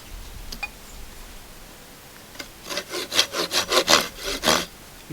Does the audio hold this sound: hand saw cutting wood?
yes